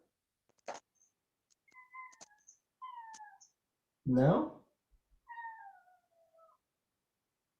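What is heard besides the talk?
cat meowing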